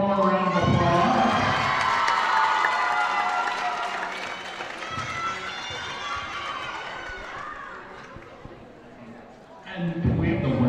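A gym crowd at a high school girls' volleyball game between West Side and Aberdeen applauds and cheers for the seniors, a loud steady wash of clapping and shouts that thins toward the end before swelling again.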